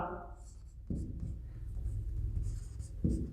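Chalk or marker squeaks and scratches on a board during a classroom science lesson, a light scratchy sound heard while a teacher's voice talks in the background.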